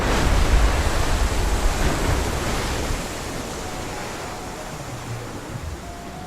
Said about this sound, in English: This is called a geyser.